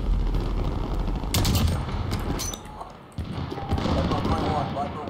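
Dense gunfire from the video game Call of Duty: Modern Warfare crackles in bursts under continuous game ambience, with sharp shots clustering near the start and again toward the end, loud and close.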